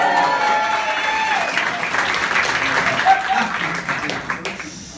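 A comedy show audience applauds loudly for several seconds, a full wash of clapping with some cheering voices mixed in before it starts to taper.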